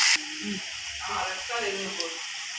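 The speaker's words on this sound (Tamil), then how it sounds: "இன்றைக்கி வெங்காயம் ஆட் பண்ணுறேன் நீல வாக்கில் கட் பண்ணி வெங்காயம் கலர் சேஞ்ச் ஆகட்டும்" Sliced onions frying in oil with fennel and curry leaves for a tomato kurma, giving a steady soft sizzle with occasional stirring scrapes under a voice speaking Tamil.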